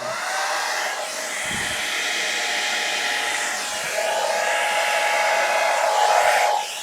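A hair dryer blows air steadily across wet white paint during a Dutch pour, a loud continuous whooshing hiss that swells in strength toward the end.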